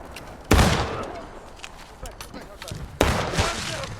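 Musket volleys crack and boom in the Civil War video game War of Rights, two loud ragged bursts of gunfire with rolling echoes, shouted commands faintly among them.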